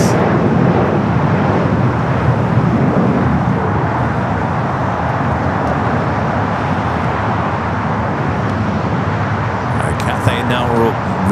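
An aircraft rolls down runway 25 right at LAX, a broad continuous roar of engine and rolling noise holding steady, with a voice talking at times.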